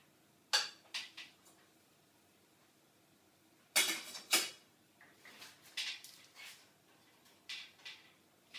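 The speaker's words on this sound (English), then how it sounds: "turn the salmon over to cook the other side" A salmon fillet is lifted and flipped in a pan with a spatula: quiet scattered metallic clinks and scrapes, a louder pair of clatters midway, then lighter taps in a quiet kitchen.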